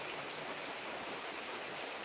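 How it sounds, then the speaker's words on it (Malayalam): Heavy rain falls in a steady, dense, close hiss that fills the whole moment without any break. "നിങ്ങൾക്ക് മഴയുടെ ശബ്ദമൊക്കെ കേൾക്കാവോ"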